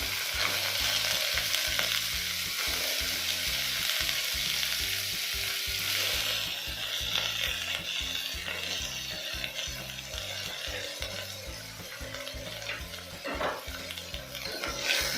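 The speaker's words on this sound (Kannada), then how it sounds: "ಚೆನ್ನಾಗಿ ಫ್ರೈ ಮಾಡ್ತೀವಿ" Lima beans frying and being stirred in a pan while a rice bath is cooked: a steady, loud sizzle with repeated scraping stir strokes throughout, and no talking.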